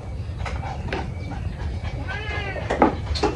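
A cat meows several times in short, fairly close calls amid quiet background noise during a home meal of pork adobo and grilled pork belly.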